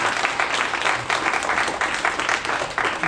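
An audience applauding at a youth entrepreneurship event, a dense, continuous patter of many hands clapping for the full few seconds, fairly loud and even.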